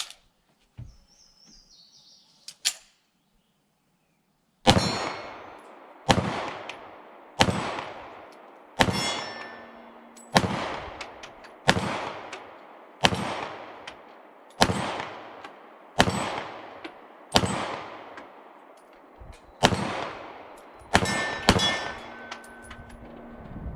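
Shots from a CZ Shadow 2 pistol ring against a steel target at about 15 yards, about a dozen sharp metallic clangs spaced a second or two apart, each decaying quickly, with quiet birdsong before the firing starts.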